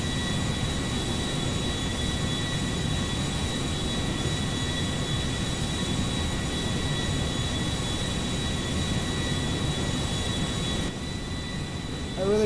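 Boeing 747 jet engines roaring steadily during a climb in a GTA game, a constant loud broadband drone with a faint whine, no speech.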